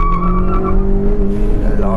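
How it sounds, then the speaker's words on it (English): A petrol Toyota Urban Cruiser with manual gearbox launching at around 5000 rpm with wheel spin: the engine revs hard at high pitch, with a steady loud roar and a hint of tire squeal throughout. "So it wheel spins a lot, even being a petrol"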